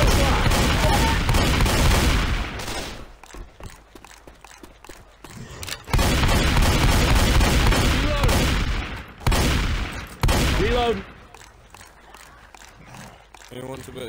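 Shotgun blasts ring out in a Left 4 Dead 2 game round set in a custom Mario castle map, loud bursts at the start and again near six, nine and ten seconds, with quieter gaps between and game voices calling out.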